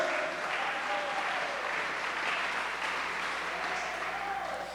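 Church congregation applauding the Lord during a Spanish-language sermon, a steady dense wash of clapping that holds evenly throughout, with some voices mixed in.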